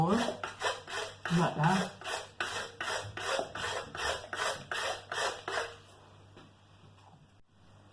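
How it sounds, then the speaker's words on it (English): Coconut flesh rubbed against a hand grater into a bowl, giving a steady series of close rasping scrapes that stop about six seconds in, followed by a brief spoken remark. "So I'm going to grate all the coconut into a bowl."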